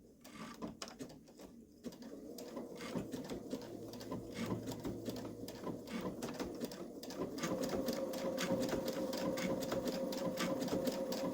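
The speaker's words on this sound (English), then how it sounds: "I'm going to change the stitch speed until we get going." A Babylock Solaris 3 digital sewing machine with a dual feed foot stitching fabric, a steady close rapid needle rhythm that speeds up and grows louder partway through, with no talk.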